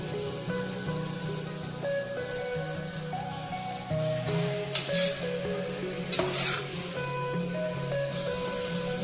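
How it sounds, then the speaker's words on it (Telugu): Half a kilo of chicken frying in a pan for curry, a steady, moderate sizzle with scraping and clinks of a spoon stirring against the pan. "1/2 కేజీ చికెన్ని దీంట్లో వేసి బాగా కొంచెం వేగించాలి"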